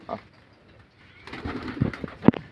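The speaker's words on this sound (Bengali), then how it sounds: "আর ভিতরের পায়রাগুলো দেখুন কেমন ছটফট করছে" Pigeons coo and flutter restlessly at feeding time, soft scattered coos and brief rustles building into a few louder, closer calls near the end.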